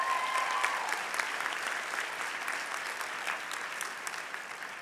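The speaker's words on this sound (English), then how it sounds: "Let's give them a round of applause." Sustained applause from a large audience at a university convocation ceremony, with steady dense clapping throughout and no voices over it.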